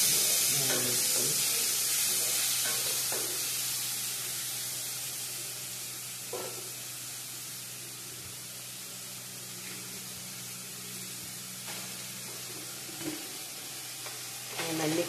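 Half a kilo of okra sizzles in hot oil in a pan, a loud continuous hiss that slowly softens, broken by occasional scraping stirs and knocks of a spoon.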